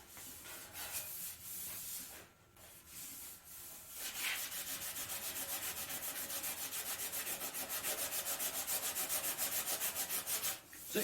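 Steady abrasive rubbing of sandpaper over primer on the body of a 1963 Chevrolet Impala, close and continuous with a brief pause early on, then rhythmic back-and-forth strokes.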